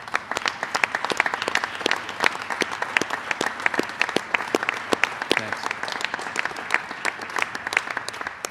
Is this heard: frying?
no